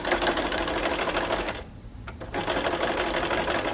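Sewing machine stitching a pleated Turkish-corner cushion at the zipper corner, running in a fast steady whir near the mic, pausing briefly midway before resuming the stitching.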